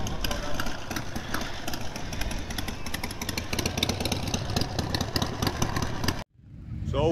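Motorcycle engines at a bike show on a track fill the air with a dense, loud, continuous rumble and clatter of idling and revving machines, which cuts off abruptly before the noise returns more faintly.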